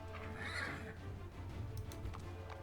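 Horses neigh and whinny amid a battle in the fantasy role-playing game Pathfinder: Wrath of the Righteous, with a steady layered din beneath the calls and hooves clip-clopping throughout.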